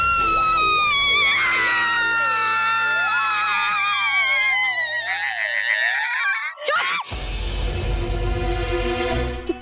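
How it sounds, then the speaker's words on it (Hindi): A woman screams in fright with a long, loud, wavering high-pitched cry over a low background drone, then breaks off abruptly into a burst of noisy commotion. "तू क्यों चिल्ला रही है?"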